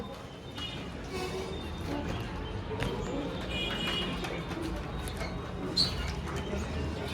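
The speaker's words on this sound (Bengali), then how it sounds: "আমি খাঁচার ওপর থেকে দেখিয়ে দিচ্ছি ভালো ভালো পায়রা আছে অনেকগুলি পায়রাই আছে" Caged pigeons cooing at a Sunday market, soft and low under a constant wash of crowd and market noise, with scattered faint knocks and a person speaking nearby.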